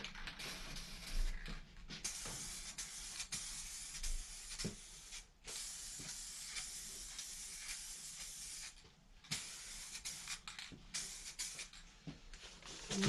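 Spray gun applying a third coat of paint to a Road Warrior fairing for a 2018 Harley-Davidson Sport Glide FLSB in a closed booth: a steady, close hiss that runs almost without a break, dropping out only briefly a few times between passes.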